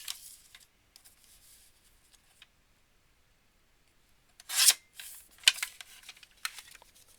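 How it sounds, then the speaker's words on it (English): Scissors snipping through card as the top and sides are trimmed, a few quiet rubbing sounds early, then a cluster of crisp, close cuts near the end. "I'm gonna cut the top down, and I'm gonna cut the sides."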